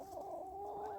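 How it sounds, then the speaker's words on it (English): Chickens cluck softly in a continuous, fairly faint murmur, with no one speaking. "That's all our chickens, everybody."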